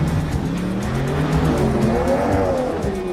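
A twin-turbo GT car launches hard from a standing start. The engine roars loudly and its pitch climbs steadily under sustained tire squeal, close and continuous, with no talk.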